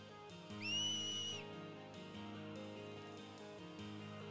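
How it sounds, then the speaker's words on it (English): A short shrill finger whistle in the Final Fantasy X game, one bright tone lasting under a second over a soft, sustained musical backdrop. "The whistle."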